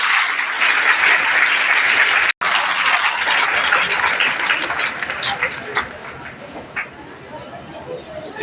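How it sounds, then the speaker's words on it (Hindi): Strong, sustained applause from a school audience at an Abdul Hamid Memorial Inter College student event, dense and close, broken by a momentary dropout and tapering slightly toward the end. "एक बार जोरदार तालियां रेहान सर के लिए।"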